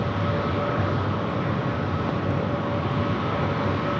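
Steady broadband roar of an airliner landing on runway 24 Right at LAX, a continuous loud rumble with a faint tonal whine held throughout, no voices.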